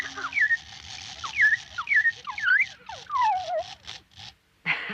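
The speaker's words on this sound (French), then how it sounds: "C'est un automate. Pour qu'il siffle, il faut remonter le ressort." A wind-up whistling automaton, its spring wound, trills a run of bird-like rising and falling whistled notes over a faint mechanical ticking. It is close and fairly loud, then breaks off into a brief silence.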